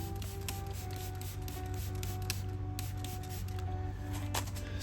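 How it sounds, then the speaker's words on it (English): Dissolver sprayed from a can onto a 2006 Range Rover Sport wheel gives a close, continuous faint hiss with a steady underlying whine, without speech. "I'm gonna spray this dissolver on here."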